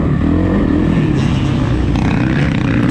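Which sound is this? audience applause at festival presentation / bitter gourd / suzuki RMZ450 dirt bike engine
suzuki RMZ450 dirt bike engine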